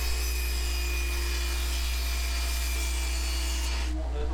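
Steady back-and-forth rasping of a saw cutting a wooden stair riser to size, continuous and close for about four seconds, dropping off right at the end over a low constant hum.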